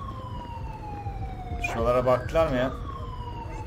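Ambulance siren in the video game GTA 5 (LSPDFR police mod), a steady falling electronic wail running throughout beneath a short burst of speech in the middle.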